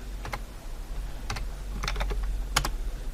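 Computer keyboard typing, with several short clusters of crisp keystrokes separated by pauses over a steady low hum, close and fairly clear.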